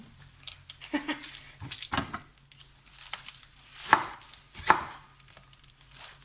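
Knife chopping spring onions and coriander on a board, a run of uneven crisp chops with two sharper, louder strikes near the end, fairly close.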